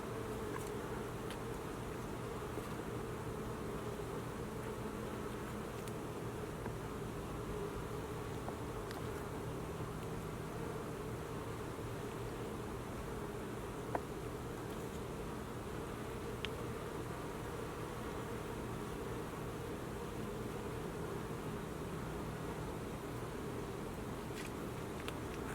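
Steady dense buzzing of many bees around beehives, a continuous close hum with no talk over it, during a late-season hive inspection.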